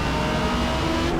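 A Viper race car in Forza Motorsport drones steadily at high revs, a continuous loud engine roar with no talk over it.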